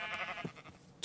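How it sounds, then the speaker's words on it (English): Sheep in the video game Minecraft giving a short wavering bleat, quiet and brief with no talking over it. "Two sheeps!"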